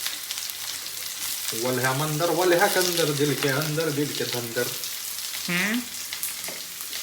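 Chopped onions sizzle and crackle steadily in a nonstick pan during tempering in a home cooking challenge, a constant frying hiss running underneath a man singing.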